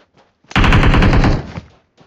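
Automatic gunfire in the mobile battle royale game PUBG Mobile: a single loud, close burst of rapid shots lasting about a second, with faint voice fragments around it.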